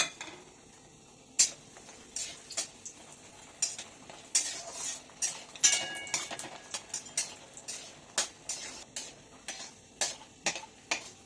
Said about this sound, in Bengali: এখন ডালের বড়িগুলোকে ভেজে নিব